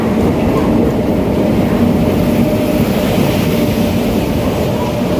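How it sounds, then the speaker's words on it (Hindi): Sairang–New Delhi Rajdhani Express, train 20507, arriving at a station: a loud, steady broadband rumble and rolling clatter of the approaching train, continuous and near throughout without a break. "यहाँ पे अराइवल हो रहा है 20507 सायरंग न्यू दिल्ली राजधानी एक्सप्रेस का"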